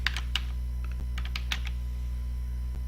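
Quick, irregular keystrokes on a computer keyboard tap out a short word over a constant low machine hum, with no voice heard.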